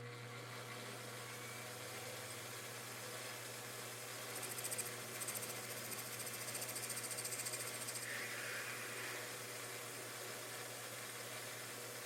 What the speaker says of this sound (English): Over to the lathe to, of course, face off the end,